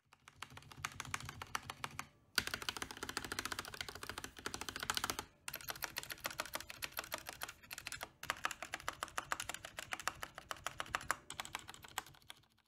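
Someone types steadily on a Mountain Everest Max mechanical gaming keyboard, giving fast, crisp clicking keystrokes in continuous bursts. The typing pauses briefly a few times and is fairly quiet, with no speech.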